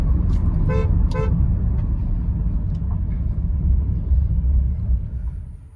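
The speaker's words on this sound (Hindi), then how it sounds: "पहले राउंड में किया सेल्टॉस इग्निस को हरा के जीत जाती है" Kia Seltos HTE D and Suzuki Ignis drag racing, heard as a loud sustained engine and road rumble with two short horn toots near the start, no talking.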